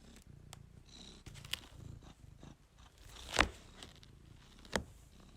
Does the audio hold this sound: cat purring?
yes